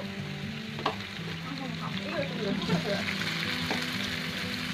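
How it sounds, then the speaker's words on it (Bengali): Marinated chicken pieces frying in a pan, added after browned onions, with a steady close sizzle and scraping stir strokes throughout, a couple of sharper clinks of the spoon against the pan. "ম্যারিনেশন করা মুরগির মাংস আমি এখন দিয়ে দিব। দিয়ে ভালো করে নেড়ে চেড়ে দেব।"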